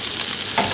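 Butter sizzles on a hot griddle for a patty melt, a brief loud hiss that swells slightly near the end.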